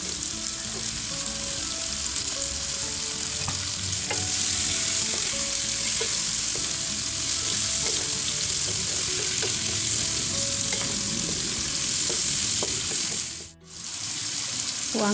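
Tuna pieces fry in a pan with yellow spice paste, a steady close sizzle running throughout with scattered small pops and stirring clinks, dipping briefly near the end before resuming.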